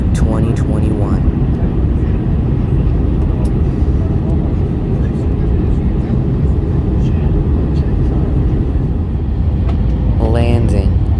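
Turkish Airlines Airbus A321 landing at Odesa, heard from the cabin as a loud, steady roar of engines and airflow that fills the whole span, with brief chirping tones near the start and end.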